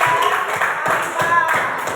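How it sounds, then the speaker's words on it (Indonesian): Children in a classroom applauding a group, a burst of quick, uneven clapping from many hands, with voices mixed in. "berikan tepuk tangan untuk Mega"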